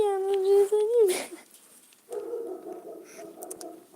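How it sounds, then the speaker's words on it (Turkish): A dog gives a few high, whining howls up close, then falls quiet before a softer, muffled vocal sound follows. "evet köpeğimin sesini duyuyorsunuz."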